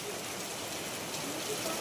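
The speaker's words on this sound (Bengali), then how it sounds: "সব জায়গায় কি বৃষ্টি হচ্ছে আমাদের এইখানের মতন?" Soft, steady rain falling, a constant hiss of drops on surfaces with no distinct pauses.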